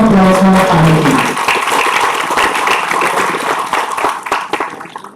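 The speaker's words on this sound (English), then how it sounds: "Can you please have a huge round of applause for our panel team?" Applause for a panel team at a panel discussion event, a dense wash of many hands clapping that fades gradually over five seconds, with a brief voice audible at the very start.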